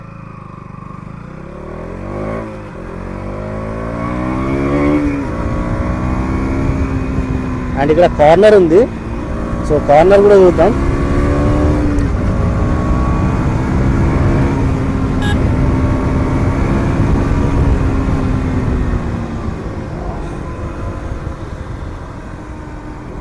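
A 2024 KTM Duke 200 motorcycle accelerating while being ridden, its engine note rising steadily through the gears, with wind roar and a brief pitch change between shifts, loud and close under a rider talking throughout.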